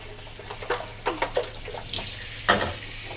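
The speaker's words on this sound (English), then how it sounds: "You want to rinse the tanks and the caps" Water splashes and runs while the tanks and caps of a HoMedics warm and cool mist ultrasonic humidifier are rinsed, with irregular close sloshing bursts over a steady low hum.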